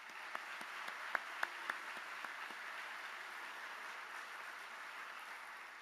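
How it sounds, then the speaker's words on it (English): A university auditorium audience gives a soft, distant round of applause, with a few sharper individual claps standing out near the start before it settles into a faint, even patter. "How about a round of applause for them?"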